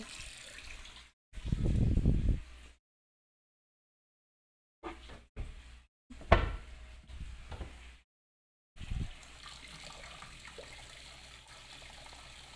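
Warm water is poured into pizza dough ingredients in a home kitchen, arriving in a few short splashy bursts separated by pauses, followed by a softer sustained trickle.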